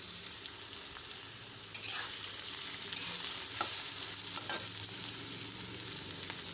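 Curry leaves and onions fry in hot oil with a continuous loud sizzle, broken by a few sharp crackles and stirring scrapes, with no voices.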